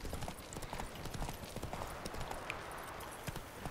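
Roach the horse gallops in The Witcher 3: Wild Hunt, a steady rapid clip-clop of hooves running continuously at close range with no talk over it.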